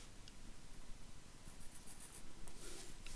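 Pencil drawing a flower stem on paper, a soft, steady scratchy stroke running continuously and close, with faint brushing texture throughout and no voices.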